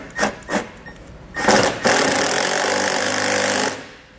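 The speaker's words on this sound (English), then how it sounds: "I'm going to use a self-tapping screw to go directly into those posts." A self-tapping screw is driven into bracket posts on a 2020 Chevrolet while fitting a tow bar accessory kit: a few short scraping bursts, then a sustained grinding drill whir lasting a couple of seconds before it stops.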